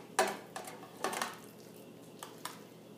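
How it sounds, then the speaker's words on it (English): A spicy beef meatloaf mixture goes into a loaf pan with several soft, separate clinks and scrapes of utensil against metal, fairly quiet and spaced out, with no voices. "So now all we need to do is put this in our loaf pan, which I'll do right now."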